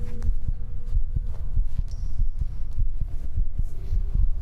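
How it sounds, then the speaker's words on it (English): A steady, throbbing heartbeat from the horror video game The Voidness pulses in a regular rhythm over a low ambient hum, with faint whispery textures and no talking. "Oh, just so I can listen to a lovely heartbeat."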